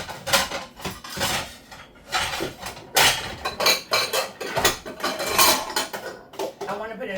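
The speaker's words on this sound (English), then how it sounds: "Let me get a plate." A plate taken out and handled in a home kitchen, with repeated close clatters and clinks of dishes and cutlery in an irregular rhythm, no talk.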